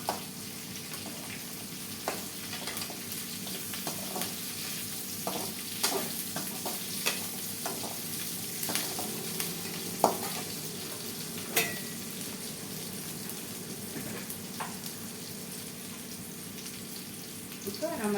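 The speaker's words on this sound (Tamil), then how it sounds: "இப்போ நம்ம வச்சிருக்கிற அந்த கத்திரிக்காய் போட்டுக்கலாம்." Brinjal sizzles in hot oil in a pan for kuzhambu, a constant soft frying hiss with scattered scrapes and taps of a spoon stirring it, close and steady throughout.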